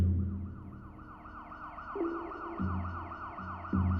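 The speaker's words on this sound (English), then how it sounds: "I hear an ambulance in the distance." An ambulance siren wails in a rapid, repeating up-and-down pattern, sounding somewhat distant, with a low engine-like rumble shifting underneath.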